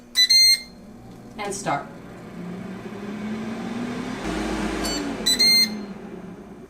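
A Ninja air fryer set to air fry at 375 degrees for preheating sounds sharp beeps at the start and end, with a low steady running hum between them while a person talks.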